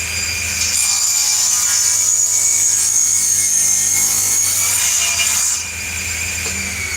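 A saw cutting through wood in a laminating jig for door ledges, a loud continuous high-pitched whine and rasp lasting several seconds before cutting off near the end, with no talking.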